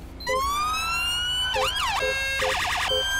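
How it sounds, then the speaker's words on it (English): A police siren in Grand Theft Auto V with the LSPDFR mod cycles through changing patterns, a rising wail, then a swooping yelp and a fast warble, loud and close with a low engine hum beneath. "Brand new sirens in game."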